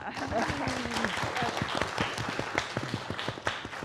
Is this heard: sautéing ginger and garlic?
no